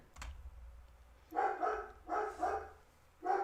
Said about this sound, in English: I think the dogs they're seeing someone walking by